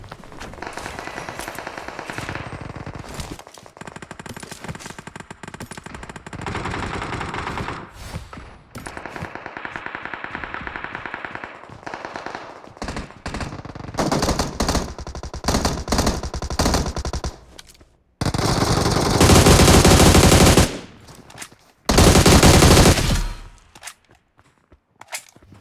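Bursts of automatic machine gun fire in a shooting video game, several sustained volleys separated by short gaps, loud and close, with the heaviest bursts near the end and no talking.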